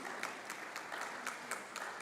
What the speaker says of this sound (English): Please, let's give our moderator a round of applause